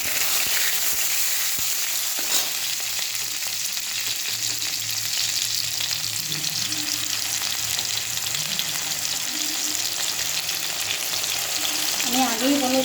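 Browned onions fry with ginger-garlic paste and tomato in a pan, a loud continuous close sizzle with occasional stirring knocks and scrapes.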